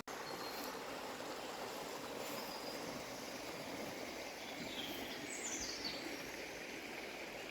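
Bradshaw Brook flowing beneath a bridge, a steady broadband rush of running water that stays constant throughout, with faint birdsong in the background.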